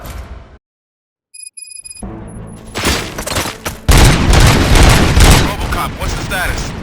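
Gunfire in the RoboCop video game: after a brief quiet gap, dense bursts of shots and booming impacts erupt and keep going loudly for several seconds.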